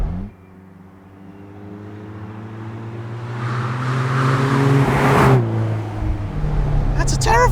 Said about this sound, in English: That's a terrifying noise for a car to make.